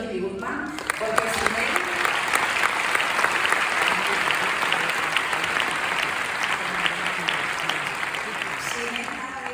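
Sustained, dense applause from a conference audience at Immunofest 2025 honoring Dr. Jimmy Goodman, loud and continuous from start to finish.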